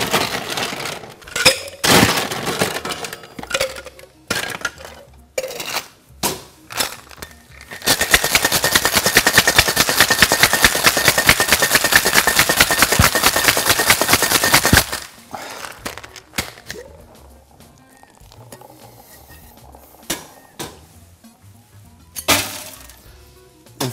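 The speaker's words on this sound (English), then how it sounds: "Shake it really, really good with cubes." A cocktail shaker filled with ice cubes and vodka for a rhubarbtini is shaken hard for several seconds, a loud dense rattle of ice, framed by scattered clinks and knocks of bar tools before and after.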